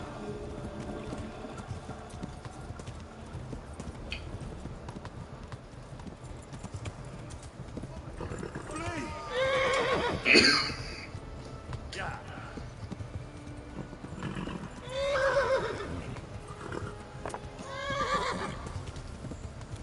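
A horse in the medieval game Kingdom Come neighs and whinnies twice in loud bursts, with hooves clip-clopping underneath; a player talks over the game sounds.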